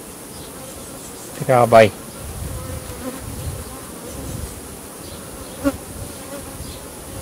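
A honey bee colony at a hive hums with a steady, close buzzing drone throughout, with a brief spoken voice early on and a faint click later.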